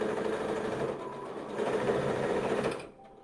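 A sewing machine stitches a spell bag in a fast, steady mechanical whir that runs close and continuous, then stops abruptly near the end.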